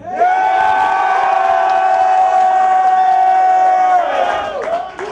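Audience at a rap battle in an Orlando lounge roars and cheers loudly, a sustained wall of yelling voices holding for several seconds before tapering off at the end.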